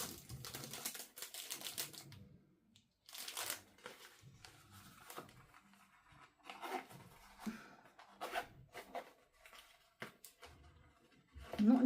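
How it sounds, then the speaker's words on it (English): A zipper runs around a foamy case, giving a series of short, scratchy rasping bursts with pauses between pulls, close and moderately quiet, no voices. "So it zips up and it's like sort of foamy type stuff."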